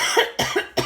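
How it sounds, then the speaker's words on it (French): A woman coughs three times in quick succession, close and fairly loud, each cough a short sharp burst with brief gaps between. "je tousse pas mal aujourd'hui"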